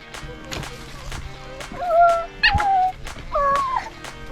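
A small puppy whimpers and yips in high, wavering cries, close by, in short bursts with quiet gaps between them.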